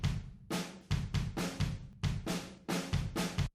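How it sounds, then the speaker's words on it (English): Logic's room drum track, mostly toms with some kick and snare, left unprocessed: a run of loud, roomy hits in a quick pop-punk pattern, each strike followed by a short ambient decay, with no voices. "So I've got the Logic room, again, mostly for the toms, but we've got some kick and snare in there as well."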